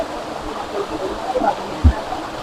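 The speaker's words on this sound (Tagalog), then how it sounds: "Diyan bumabagsak guys ang tubig yan." Water pouring down at a waterfall, a steady rushing roar with a brief splashy thump, while people talk nearby.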